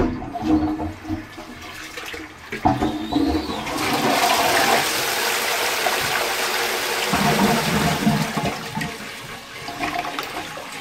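Restored 1962 Frank Love Ltd No 10 "The Athenium" toilet cistern flushing via its bell siphon, a loud close rush of gushing water that builds after a few seconds and continues steadily to the end.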